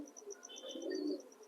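Blue satin pigeons coo softly inside a pigeon loft at dawn, low murmuring calls overlapping with a steady high chirping in the background.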